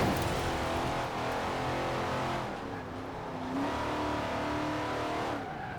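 Race car engine in a B class car during a racing video game, revving continuously and loud throughout with a brief drop in pitch midway, tire noise mixed in, no talk.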